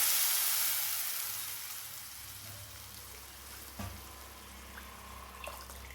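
Fish curry liquid poured into a hot pan, a loud hiss that quickly fades into a quieter, steady simmer with a few small pops.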